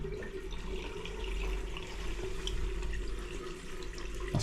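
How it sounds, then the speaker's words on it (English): Water drains steadily out of a pressure reducing valve pipe at a plumbing install, a continuous rushing gurgle with a faint low hum, close and fairly loud without talking. "Maybe it'll drain out the PRV. Sounds like it."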